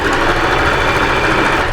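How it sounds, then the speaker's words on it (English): A sewing machine runs a fast continuous hum while stitching a stretch knit T-shirt neckline, close and loud with no pauses. "just sew over a little bit from where you started, and then backwards and forwards"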